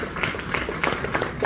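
An audience at a Hindi poetry event claps to welcome a guest of honour on stage, with steady, moderately loud applause continuing throughout.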